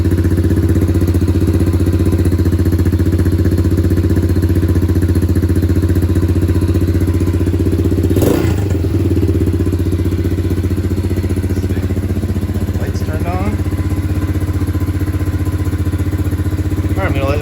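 Tao Motor 125cc Cheetah motorcycle engine idling just after starting, a steady, close, low droning rumble that holds evenly throughout, with a brief louder swell partway through.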